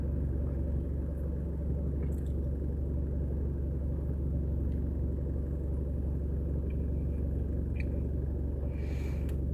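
A passing car on the road makes a continuous deep rumble close by, unchanging in loudness, with a few faint ticks and a brief airy hiss near the end.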